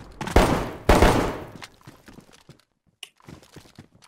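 Gunfire in the video game DayZ during a castle base raid: two loud, close shots ring out early and decay, followed by fainter scattered clicks and small bursts.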